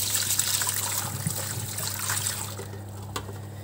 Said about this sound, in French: Donc on va venir vider le bol.